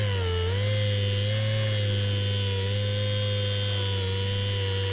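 Small rotary polishing tool buffing a Seat 600 instrument gauge with 3M polish, a steady close electric whine and hum that holds constant with slight pitch wavers.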